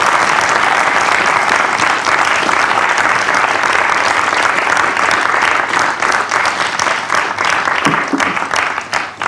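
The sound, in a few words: audience applause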